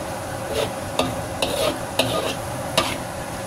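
Chopped garlic sizzles in hot oil in a pan while a spatula stirs it, with a steady crackling fry broken by several sharp scrapes and clinks of the utensil against the pan, close and fairly loud.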